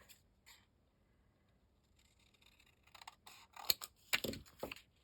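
Scissors snip through paper while trimming a square for a handmade gift card holder, a few close, crisp cuts bunched toward the end after a quiet stretch with faint rustling.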